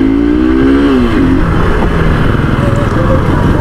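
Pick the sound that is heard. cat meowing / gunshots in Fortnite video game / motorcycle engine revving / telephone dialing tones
motorcycle engine revving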